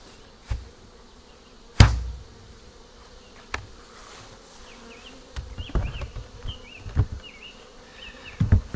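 Honey bees buzz around a long hive outdoors in hot weather, a faint hum with a few sharp knocks and rustles scattered through it, all close by and with no talking.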